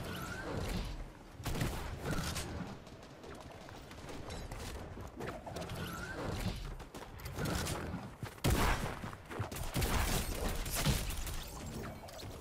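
Gunfire from a Fortnite match, a rapid fusillade of shots with sharp bursts and clattering weapon mechanics, loud and close, continuing in waves across the whole stretch.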